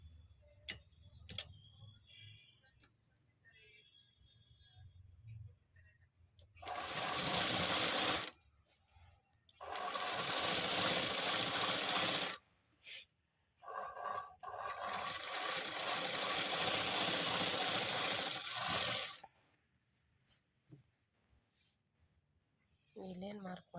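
A sewing machine stitches a readymade top in several short, loud bursts separated by pauses with soft ticking and handling clicks.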